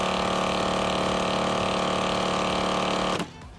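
A TACKLIFE portable digital tire inflator pumps air into a tire with a steady, loud mechanical buzz and whir that runs unbroken for about three seconds, then stops abruptly.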